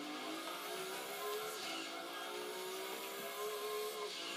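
Race car engine in the Gran Turismo 2 video game, a steady high-pitched drone held at high revs throughout the final lap, loud and continuous with no talk.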